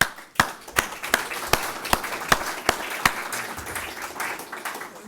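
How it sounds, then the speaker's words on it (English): An audience gives the mentors a round of applause at the 2016 Big Ideas final round kickoff, a steady wash of clapping with a few sharp claps standing out nearby. "everybody should give the mentors a round of applause as well"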